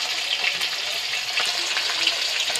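Bata fish fry in hot oil in a kitchen pan, a close, steady crackling sizzle with bright spitting pops scattered throughout and no voices.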